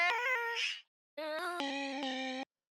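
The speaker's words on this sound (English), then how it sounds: "So the next thing that I have on there is this bandpass filter" Chopped vocal samples run through a bandpass filter plugin for a future garage track, two bursts of pitched, tonal vocal notes with a short gap between, thin and somewhat muffled, standing alone.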